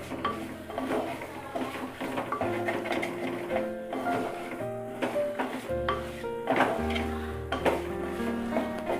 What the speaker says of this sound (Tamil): இப்போ கத்திரிக்காய் போட்டு ஒரு 3 நிமிஷம் இந்த மசாலையிலே நல்லா வதக்கிடலாம்